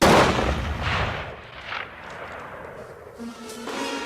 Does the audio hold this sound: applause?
no